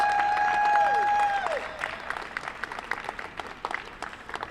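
Applause for a band at the AIDS Memorial Quilt welcome at Zuckerberg San Francisco General, starting over the last held band notes, then scattered crowd clapping that fades and thins.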